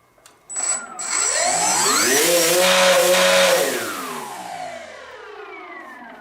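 An RC Cessna 182 electric motor with severe vibration spools up to high throttle with a harsh, whining grinding roar, holds for a couple of seconds, then winds down and fades.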